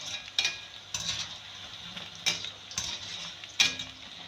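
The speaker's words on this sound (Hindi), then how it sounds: "ये बड़ी क्रिस्पी सी फ्राई होंगी।" Fish fries in hot oil with a faint steady hiss, while a utensil clinks against the pan every half second or so in a loose rhythm, close and fairly quiet.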